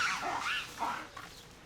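Lemurs in a Madagascar-style zoo enclosure give a sharp alarm call, a few loud, rising and falling yelping cries close by, with no talk over them.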